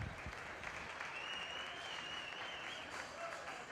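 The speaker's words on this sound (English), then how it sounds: "Go ahead and give them all a round of applause." Steady audience applause filling a livestock arena at a 4-H and FFA market goat show, continuous and even throughout, moderately distant, with no clear voice over it.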